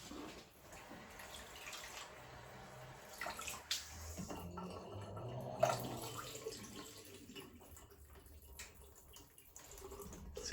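Water runs from a tap in a kitchen as soaked lentils are rinsed, giving a faint, steady splashing stream with small knocks and drips, heard without talk.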